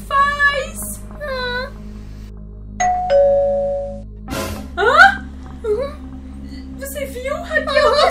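A doorbell chimes inside the Roblox Brookhaven roleplay game, a short ding-dong tone among other cartoonish game sounds and squeaky character noises.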